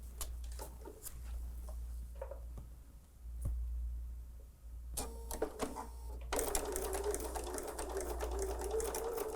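Sewing machine stitching fabric for a Christmas quilting sew-along, with light handling clicks at first, then a steady, close, continuous run of rapid stitching over the last few seconds.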